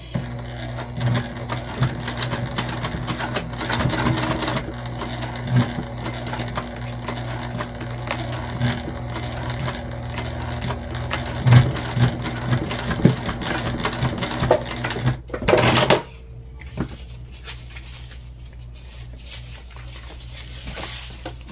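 A sewing machine stitches a seam along the seam allowance of a gusset for a small pack, running in a steady mechanical whir for long stretches, with a brief louder burst near the end before it quiets.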